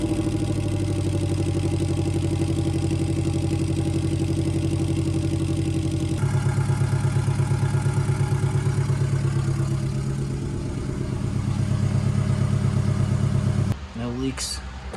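A Subaru engine swapped into a rear-wheel-drive Honda CRX runs at idle with a loud, close, rhythmic throb that steps up in intensity partway through, settles, then cuts off near the end.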